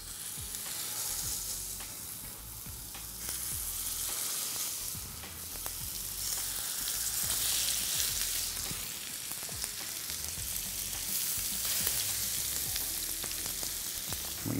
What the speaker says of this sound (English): So we're ready to fry our burgers now.